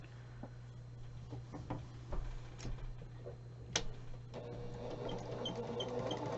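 A sewing machine stitches a quarter-inch seam on either side of a drawn line across fabric squares for half square triangles, a steady close mechanical ticking with a low motor hum, gathering into a faster, denser run toward the end.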